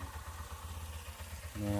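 Low, steady throbbing rumble of a motorcycle engine idling close by, swelling slightly louder at the very end.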